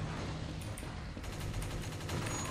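Rapid automatic gunfire from a weapon in the Crisis Action shooter game, a dense steady burst of shots running throughout at fairly low level with no talk over it.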